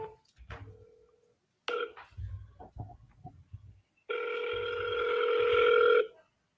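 An outgoing phone call rings back with a long buzzy tone near the end, heard through the handset over a room with brief clicks and handling noise.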